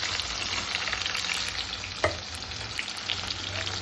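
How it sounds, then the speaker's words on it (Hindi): Sliced onions and green chillies frying in hot oil with cumin and fenugreek for kadhi, a close, steady crackling sizzle with a sharp scrape of stirring near the middle. "प्याज को हम गोल्डन ब्राउन करने तक भूनेंगे।"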